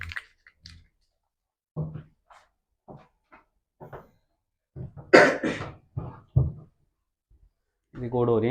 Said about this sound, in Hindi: खांस रहा है तू।